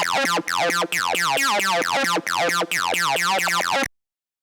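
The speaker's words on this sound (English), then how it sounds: "And layer another acid sound to this." Layered acid synth lines in an FL Studio techno track play a fast, bright, squelchy repeating pattern with sharp rhythmic gaps, loud and upfront, then cut off abruptly.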